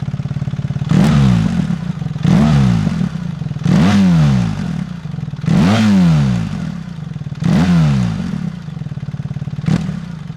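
A BMW R1300 GS motorcycle engine revs hard and loud toward 6,000 rpm, about six sharp rising bursts, each climbing to a high pitch before dropping back to a steady idle.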